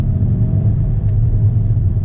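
A 2019 Chevy Silverado 1500 LT with a 5.3-liter V8 and an 8-speed automatic is driven, giving a steady, loud low cabin rumble with engine drone and road noise and no talking.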